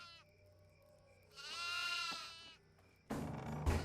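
Goats bleat in the horror video game Devour: a long wavering bleat rises and falls, then a loud burst of noisy thumping follows near the end, with game ambience underneath.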